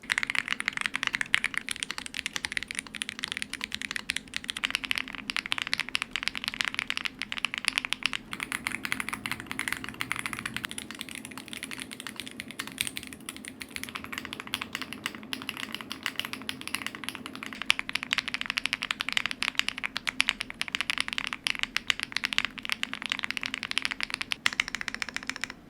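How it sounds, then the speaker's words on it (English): Steady typing on an RD75 mechanical keyboard with Hyacinth linear 5-pin switches and GMK Devoted keycaps gives a clacky, poppy clatter of dense keystrokes at close range, continuous for the whole stretch with no voices. "A 5-pin linear switch creates a clacky poppy sound profile, really smooth and enjoyable to type on."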